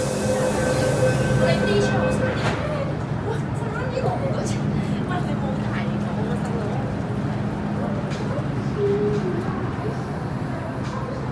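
A metro train at Sheung Wan station in Hong Kong rumbles and hums steadily with rattling carriages and a brief high squeal, while someone talks over it.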